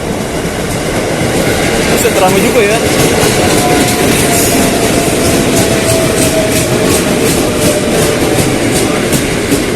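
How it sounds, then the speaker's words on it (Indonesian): An eight-car evening commuter train bound for Nambo passes through a busy station near Jakarta with a loud, continuous rumble and faint clacking of wheels, close by, while a person speaks briefly over it. "saya akan coba memvideokan dulu untuk kereta yang ke arah Nambo ini"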